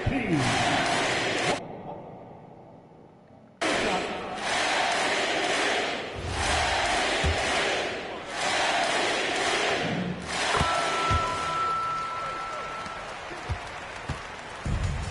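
A virtual arena crowd in NBA 2K26 roars and cheers in sustained waves, loud and dense, broken by a brief lull, with thumping game sounds underneath.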